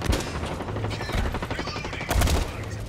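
Rapid bursts of explosions and gunfire-like blasts from exploding throwing stars in the video game Blacklight: Retribution, loud and dense, with a heavier cluster of blasts near the end.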